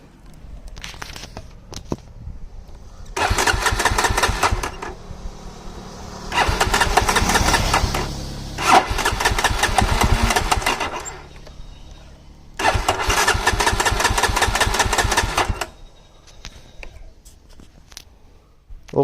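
A Jawa Perak motorcycle engine is restarted several times, each attempt a loud burst of a few seconds of rhythmic engine firing, separated by quieter gaps, with no talk over it.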